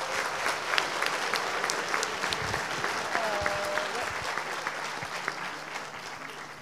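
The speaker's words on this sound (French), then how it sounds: "Un peu d'applaudissements pour Antoine Pietri." Steady applause from a crowd at a master's degree graduation ceremony fills the room, sustained and even, with no break for several seconds.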